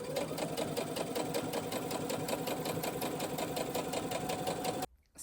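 A sewing machine stitches fabric for a quilt jacket, running at a fast, even rhythm close to the microphone, then cuts off just before the end.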